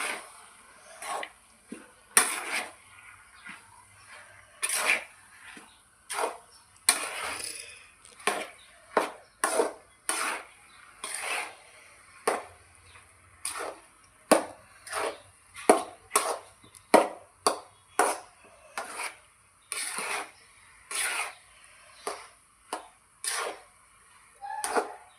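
Rice for tomato rice being mixed in a pot, with a long run of crisp, irregular knocks and clacks of the spoon against the pot and no talking.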